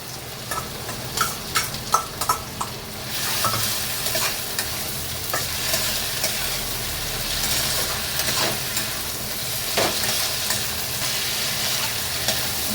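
Ginger garlic paste sizzles loudly as it fries in a pan with fried potatoes in oil, stirred throughout with a few sharp scraping knocks at the start and then steady, continuous frying noise with no talk.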